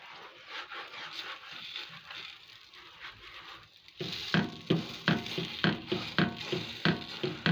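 Pepper roti cooking in an oiled pan gives a soft, steady sizzle that grows louder midway, then breaks into a rhythmic series of close scraping and pressing bursts over the frying hiss, with no talking.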